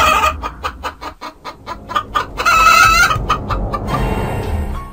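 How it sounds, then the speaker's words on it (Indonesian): Pet chickens behind a house cluck loudly and rapidly in close, choppy bursts, with one longer squawking call partway through. "ayam peliharaan di belakang rumah bersuara sangat ramai"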